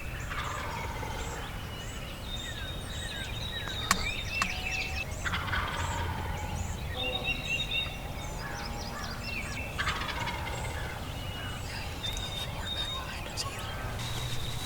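Several wild turkeys gobble repeatedly in rolling bursts while strutting, some near and some farther off, over a steady outdoor background.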